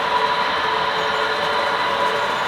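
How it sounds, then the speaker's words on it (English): Twin Star Rocket remnant passenger train on a railroad between Minneapolis-St. Paul and Kansas City, passing close by as a steady, loud rumbling roar with rail noise throughout. "it is the remnant passenger train of what used to be the Twin Star rocket"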